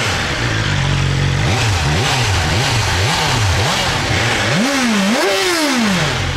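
A 2021 BMW S 1000 XR motorcycle engine idles loudly up close, then is blipped through several quick revs before two longer, higher climbs that fall back toward idle.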